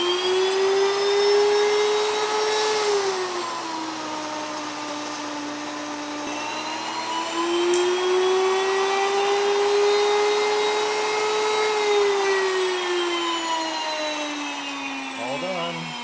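An electric grain mill grinds a large batch of grain for bread, a steady high whine with a motor pitch that dips and rises as the load shifts, loud and continuous.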